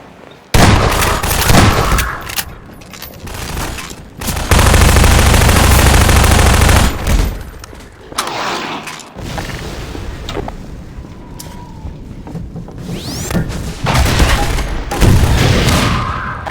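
Gunfire in the 2005 PC game Half-Life 2: Lost Coast, loud bursts of automatic fire and booming shots in clusters, with sharp pauses between volleys and heavy rumbling impacts.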